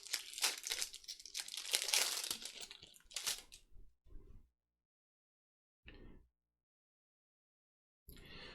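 A pack of 1992 Star Trek trading cards is torn open with crinkly, crackling foil wrapper noise for several seconds, followed by a few quieter rustles separated by silence.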